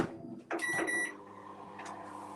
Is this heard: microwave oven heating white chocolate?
yes